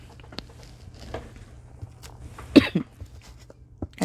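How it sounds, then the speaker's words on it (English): A single sharp cough stands out near the middle against a quiet room with faint shuffling and small taps. "Excuse me, I got a cough again."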